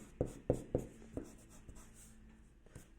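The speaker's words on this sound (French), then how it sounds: "Je vais prendre ma petite gomme." A small eraser rubs on paper in a few quick, close strokes at first, then quieter scrubbing fades out in a still room.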